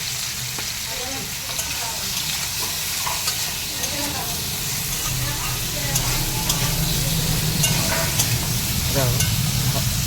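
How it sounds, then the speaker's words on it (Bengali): Banana and potato pieces fry in hot oil in a pan, a continuous close sizzle with frequent stirring clatter that grows slightly louder toward the end. "তো এখন কলা আর আলু প্রথমে ভেজে নিব"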